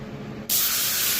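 Spray gun laying clear coat onto 300ZX project car parts, a loud steady hiss that bursts on abruptly and holds without pause after a quiet start.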